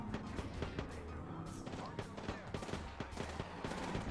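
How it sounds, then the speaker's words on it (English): Rapid gunfire in an Apex Legends firefight, with dense bursts of shots and impacts layered over game audio throughout, steady and close. "they're shooting at us"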